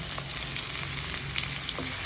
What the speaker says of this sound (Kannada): ಈಗ ಕಟ್ ಮಾಡಿರುವಂಥ ಈರುಳ್ಳಿ ಹಾಕ್ಕೊಳ್ಳೋಣ.